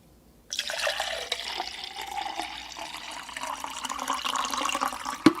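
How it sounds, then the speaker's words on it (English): Water pours steadily into a drink shaker holding an electrolyte hydration mix with lime, a continuous splashing fill lasting several seconds, close and fairly loud. "Get some more water in here."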